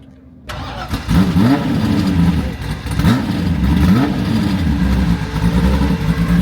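A loud V8 Porsche racing car engine roars close by, rumbling and revving in repeated rising sweeps, with no talking.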